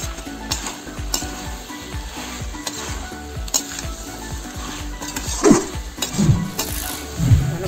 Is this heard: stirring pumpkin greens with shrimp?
yes